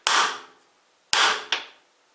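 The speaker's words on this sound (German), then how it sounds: "Und geben mir einen mit dem Hammer" Hammer taps seating a workpiece on a lathe faceplate: three sharp metallic knocks, one, then a pause and two more in quick succession, each ringing briefly and decaying, close and alone.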